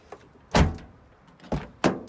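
Knocks on a car door not yet treated with sound deadener: three hollow, tinny thumps, one single and then two close together, near and loud, with no other sounds between.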